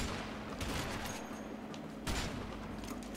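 Gunshots during a shootout in the video game A Way Out: two or three broad, muffled bangs stand out over a dense, noisy background of steady game sound, fairly quiet overall.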